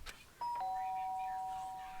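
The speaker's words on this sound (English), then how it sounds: "The sharp sound of the doorbell pierced my sleepy haze and pulled me back into the real world." Doorbell in the game Danganronpa: Trigger Happy Havoc sounds a clear two-tone electronic chime after a brief soft click, the second sustained tone ringing steadily to the end over faint background.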